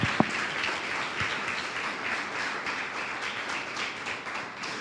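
A church congregation applauds in worship, a continuous, fairly soft wash of many hands clapping together with one sharper tap near the start.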